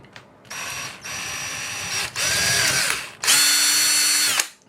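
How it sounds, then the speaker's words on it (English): A power drill whines in four loud bursts, pitch rising as the bit drills out metal rivets on a Polaroid SLR680 camera body, with short pauses between runs. "I'm literally just gonna drill."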